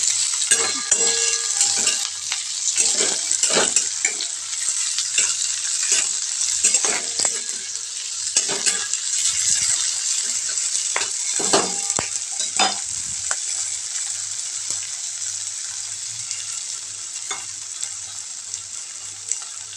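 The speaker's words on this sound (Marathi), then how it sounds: "ती ॲड केल्याची शेंगा आणि छान असं तेलामध्ये परतून घ्यायचं" Cowpea pods and potato sauté in oil, giving a continuous close sizzle broken by repeated scraping and stirring clatter from a spoon against the pan that gradually settles into a steadier hiss.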